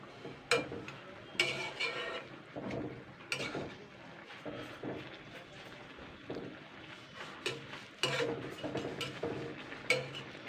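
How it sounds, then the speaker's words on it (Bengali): Saag greens stirred and tossed in a pan with a spatula for a few minutes, giving soft scraping, rustling and clinking strokes in an irregular rhythm, faint and close, with no talk. "জাস্ট শাকটাকে তিন চার মিনিট এইভাবে একটু নাড়াচাড়া করে নেবো"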